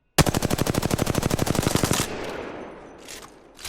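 An R-301 rifle fitted with a blue magazine fires in the video game Apex Legends, a loud rapid automatic burst of about twenty evenly spaced shots lasting two seconds, followed by a fading echo tail.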